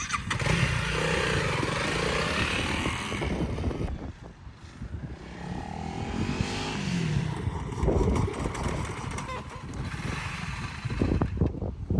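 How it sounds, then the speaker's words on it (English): A Honda CRF300L Rally motorcycle runs loud and close, then dips briefly as it brakes hard with both front and rear brakes before the engine rises again, with continuous mechanical noise throughout. "we're going to do a full front brake and rear brake application to the bike"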